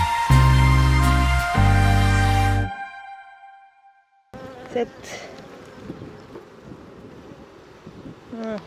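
Honeybees buzz at an opened hive in cold weather, a thin steady hum that follows a loud, tonal opening and a brief lull, with faint handling noises around it.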